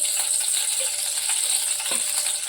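Oil hits a hot kadai on the stove for chicken pepper fry and gives off a steady, bright sizzling hiss with a light crackle. A single faint clink sounds partway through, and no one speaks.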